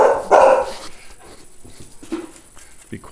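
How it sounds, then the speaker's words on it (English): A dog barks loudly and close at the start, then follows with fainter yips and whimpering noises indoors. "Annie likes to bark whenever I'm talking to myself."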